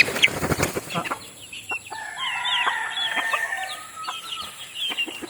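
A hen with chicks clucks and chatters nearby, with a few sharp calls at the start and softer repeated clucks following, outdoors with no talking.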